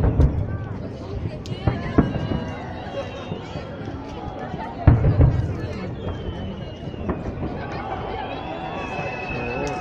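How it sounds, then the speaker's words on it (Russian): Victory Day fireworks salute in Omsk, with sharp booming bursts popping at irregular intervals, one louder near the middle, over outdoor crowd chatter and people talking nearby. "Салют."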